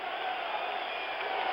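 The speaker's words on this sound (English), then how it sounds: "the crowd begins to chant out in right field" A large baseball crowd at a 1977 World Series game between the Dodgers and Yankees, heard as a dense, steady roar of many voices from the stands in right field.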